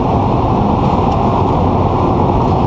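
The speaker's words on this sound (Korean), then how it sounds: "타이어 구르는 소리와 그 다음에 차 밖에서 들려오는 바람 소리" Steady, loud roar of tire rolling noise and wind rushing past a 2020 Hyundai Nexo hydrogen fuel-cell SUV driving a winding road, a continuous low-heavy rumble with no talking.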